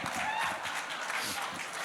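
An audience claps at the IIFA 2024 press conference, a dense, steady wash of applause filling the room for a couple of seconds.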